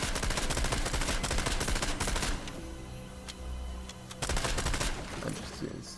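Shotgun fire in Fortnite, dense loud blasts and crackling gunfire filling the first seconds, easing briefly before another burst near the end, with a voice faintly underneath.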